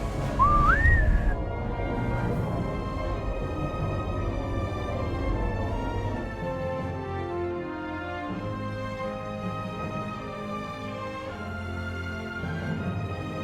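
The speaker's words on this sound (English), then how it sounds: "No, not the bosun's whistle. No. The theme song to Doctor Who." Someone whistles the Doctor Who theme song, a short rising whistled phrase at the start before the sound settles into sustained tones.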